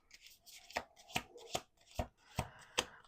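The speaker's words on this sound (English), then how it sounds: "Last shuffle." A deck of playing cards is shuffled in a tarot-style reading session, giving six crisp riffle bursts at a steady pace of about one every 0.4 seconds, close and fairly quiet, with no talking.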